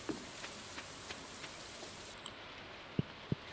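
Soft, steady rain patters through a Stardew Valley game scene, a faint even hiss broken by scattered light drop ticks and two sharper taps near the end.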